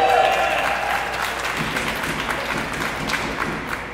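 A crowd at a parkour competition applauds and cheers steadily, a dense wash of clapping filling the space, with a voice briefly audible at the start.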